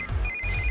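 A phone rings with a short electronic ringtone, a bright steady tone heard up close and alone for under a second.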